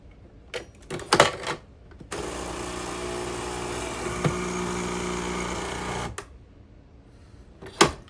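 A Nespresso CitiZ coffee machine fitted with a reusable pod hums and whirs steadily for about four seconds, framed by a few short clicks and knocks before and after.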